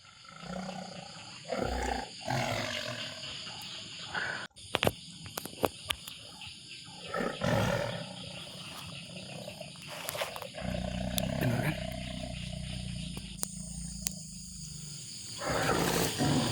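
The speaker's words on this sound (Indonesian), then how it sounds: "Kayak suara macan. Suara macan itu gerem." Deep rough growls like a big cat, several loud bursts spread across the clip, with bird calls and insect chirps in a wild outdoor setting and sharp clicks between.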